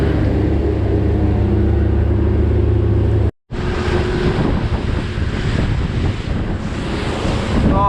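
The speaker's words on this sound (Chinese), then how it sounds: "浪越来越大了，外面。" Strong gale-force wind buffets the microphone with a loud continuous roar while big sea waves surge and wash at the coast, briefly cut off, then returning just as heavy.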